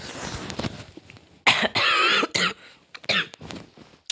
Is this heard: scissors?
no